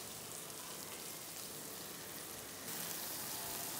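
Powdered turmeric, coriander, chili and cumin sizzle in oil over a low flame, a faint, steady hiss that grows slightly louder toward the end.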